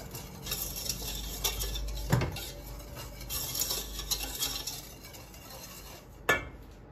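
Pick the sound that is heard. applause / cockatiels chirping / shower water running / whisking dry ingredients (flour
whisking dry ingredients (flour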